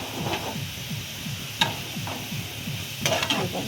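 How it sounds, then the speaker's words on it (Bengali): Potatoes frying in a pan for a homemade egg-and-potato pitha filling sizzle under repeated rhythmic scraping strokes from stirring, with a few sharp clinks of a utensil against the pan, close and with no voices. "কত সুন্দর আলু ভাজা হয়ে গেছে"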